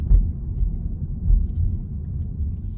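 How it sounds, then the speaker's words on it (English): Low, steady rumble of a car engine braking in low gear on a downhill stretch, a close, droning engine note with gentle swells and no talk over it. "I'm going to keep the car in a low gear, and that will help to keep the speed of the car down using the engine braking."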